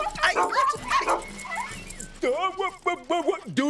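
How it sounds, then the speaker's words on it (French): A cartoon dog yips, whimpers and barks in short, excited bursts, mixed in with animated voices talking in French. "Gentil toutou, qui veut un bon biscuit pour chien?"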